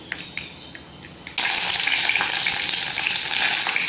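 Mustard seeds with urad dal and fennel crackle and splutter in hot oil while tempering for brinjal puli kulambu. After a few light taps, a loud continuous sizzle bursts in close to the pan.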